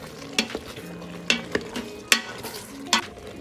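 Shrimp and broccoli cooking in a pan, a soft sizzle under repeated scraping stirs of a utensil against the pan, roughly one clack every half second to second.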